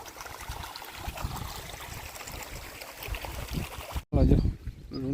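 Rainwater runs off in a steady trickling, gurgling flow close by, and a voice breaks in loudly near the end.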